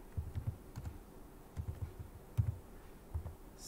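Quiet, close keystrokes on a computer keyboard come in short bursts of a few taps each, separated by brief pauses, with no voices.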